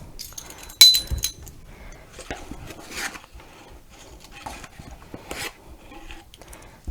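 Metal measuring spoons clink and scrape lightly while measuring baking powder for a chocolate cake, a few sharp taps among soft rubbing sounds in a quiet kitchen.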